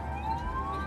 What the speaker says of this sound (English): with the ambulance travelling at high speed